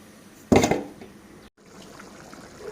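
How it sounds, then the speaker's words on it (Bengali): Water pours into a pigeon meat and potato curry with chui jhal in a pan, a single short splashy gush lasting about half a second, followed by a quiet low bubbling. "আমি এখন ঝোলের পানি দিয়ে দেবো।"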